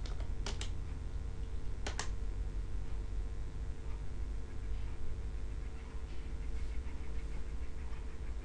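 A terminal command being typed on a computer keyboard: faint, steady key clicks over a low background hum, with a couple of sharper taps near the start.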